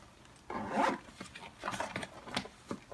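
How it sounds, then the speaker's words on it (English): A scrapbook supply bag packed with papercraft tools, a cutter, planner and snacks being zipped closed, with a close rasping zip in a few uneven pulls lasting a few seconds. "And it all zips up."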